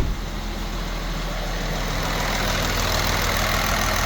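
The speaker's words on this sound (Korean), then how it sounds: "지금 에어컨에 의해서 팬이 작동 중에 있습니다." A Kia Mohave idles with its electric radiator cooling fan switched on by the air conditioning, a steady low engine hum under a continuous whooshing fan drone, close and constant with no talk.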